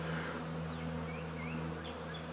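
Honey bees buzz steadily around comb hanging inside a swarm trap, a dense, continuous drone with a low hum and occasional higher whines of individual bees flying close by.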